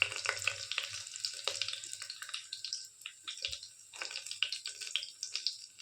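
Fennel seeds and curry leaves spluttering in hot oil, a steady close crackle with frequent sharp pops and bursts throughout, no voices.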